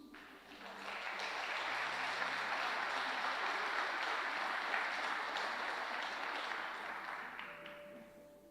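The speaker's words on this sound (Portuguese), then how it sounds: "Você pode aplaudir Jesus?" A church congregation applauds in a broad, even wash of clapping that swells in, holds steady for several seconds and then tapers off, heard somewhat distant and soft.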